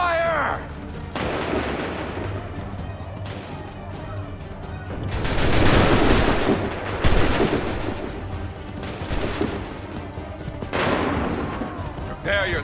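Musket volleys in Assassin's Creed 3, several loud booming fusillades of massed gunfire in bursts across the scene, with shouted commands between shots.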